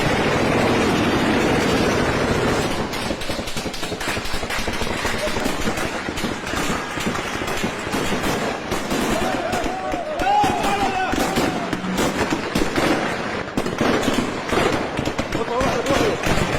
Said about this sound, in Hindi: लगातार गोलीबारी हो रही है